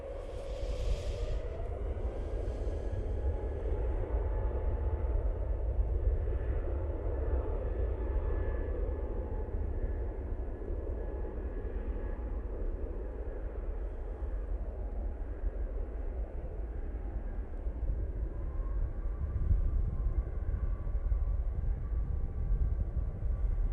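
A Juneyao airliner in Chinese silk ribbon livery arrives on runway 05 right, its steady jet engine roar and low rumble sustained and fairly distant throughout, with a faint whine over the top.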